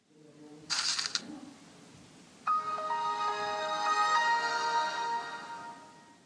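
A string of iPhone system sound previews from the iSounds pack: a short bright chime burst, then a longer sustained melodic tone with several stepped notes, heard alone and clearly.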